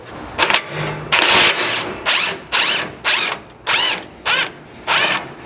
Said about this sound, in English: So we'll get a 14mm socket to remove it.